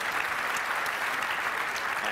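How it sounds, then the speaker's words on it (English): An audience applauds panelists at the EFI Connect 2013 press panel: dense, steady clapping that fills the whole moment at an even, moderate loudness, with no voices over it. "Please give a round of applause to our panelists"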